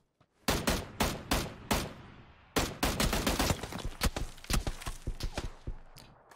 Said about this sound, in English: Simulate a gunfight.